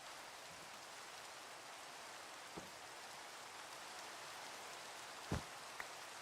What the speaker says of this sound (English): It's raining. God, all it ever does is rain on this server.